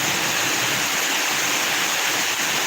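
Heavy rain pours steadily in a continuous, dense hiss, loud and close throughout with no gaps and no voices.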